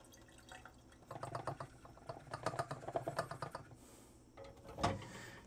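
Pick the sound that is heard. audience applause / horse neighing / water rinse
water rinse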